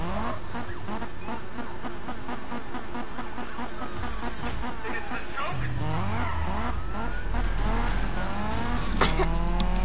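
A video game car chase with cops fills the air with buzzing, rising and falling engine whine and sliding tire squeals, loud and continuous, someone talking over it.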